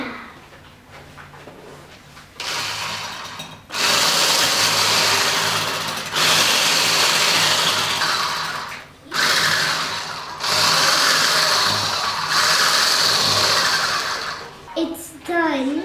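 An electric mixer whirs through a tiramisu mixture with icing sugar in a kitchen, running in several loud bursts separated by short pauses, with brief voices near the end.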